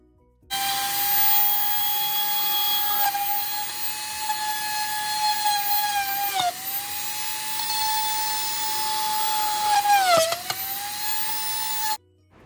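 A small drill bores holes into the top of a plastic lid for a Dollar Tree Christmas ornament craft, giving a steady high whine that runs about eleven seconds with brief dips in pitch as the bit bites, close and alone.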